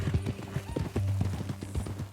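Horse hooves clip-clopping at a walk in the video game Red Dead Redemption II, a close, steady rhythm of hollow hoofbeats, alone without talk.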